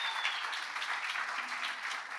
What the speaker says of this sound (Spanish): Aplauso para Valeria.